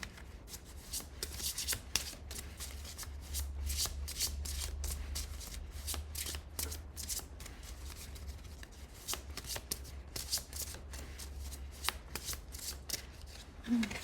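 Tarot cards are shuffled by hand for a long, steady stretch of quick, crisp riffling flicks and soft slides, close and fairly quiet, with no talking.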